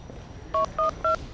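Three short, crisp telephone keypad dialing beeps sound in quick succession, loud and close over a quiet room background.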